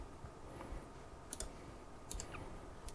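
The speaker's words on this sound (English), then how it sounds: "what I'm going to do is going to right click on that drive" A computer mouse gives a few faint, crisp clicks while right-clicking a USB drive on a Windows PC, isolated ticks over a quiet room hiss.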